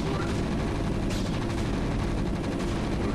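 Gunfire crackles through a dense, noisy battle in the StarCraft Remastered: Brood War real-time strategy game, shots blurring into a continuous roar with no clear separate bursts.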